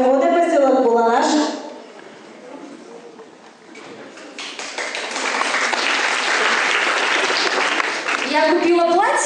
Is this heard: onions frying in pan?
no